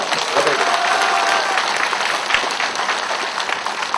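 A crowd applauds steadily with dense, sustained clapping throughout, fairly close and loud, at a local election campaign rally in Ansan, South Korea.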